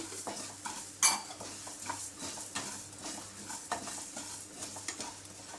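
Cumin and other spices dry-roasting in a pan for stuffed brinjal, stirred with a utensil that scrapes and clinks softly against the metal over a faint sizzle, close and steady, with one sharper knock early on.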